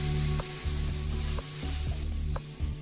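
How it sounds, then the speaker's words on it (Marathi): Ginger, garlic and green chili paste sizzles and fries steadily in a pan with ground coriander, cumin and fennel, with a few soft stirring clinks and scrapes at regular intervals. "त्यामध्ये आलं, लसूण आणि मिरचीचा ठेचा व्यवस्थित परतून घेऊया"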